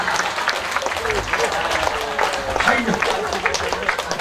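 Festival crowd at the Jeungpyeong ginseng festival clapping along during a traditional gakseori performance, a dense, steady wash of applause running throughout with a performer's voice and crowd chatter layered on top.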